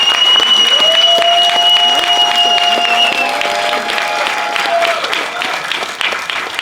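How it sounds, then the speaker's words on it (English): After a film screening, an audience applauds steadily in a loud, dense wash of clapping, with a few whoops or sustained voices rising over it near the start before the clapping gradually thins out. "another round of applause"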